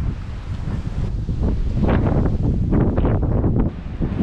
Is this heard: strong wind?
yes